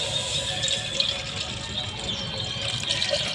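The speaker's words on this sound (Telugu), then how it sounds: "దాంట్లో పాలు పోసుకుంటున్నాను." Cow's milk is poured into a bowl, making a continuous, close, splashing liquid stream that runs throughout at a steady level, with no voices over it.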